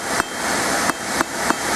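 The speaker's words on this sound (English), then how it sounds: "What I'm doing is just going to get my hammer over this corner of the anvil so you get a nice gentle taper" Blacksmith hammering metal over the corner of an anvil to draw a gentle taper on a bracelet, four sharp ringing strikes at an uneven pace, close and loud over a steady background hiss.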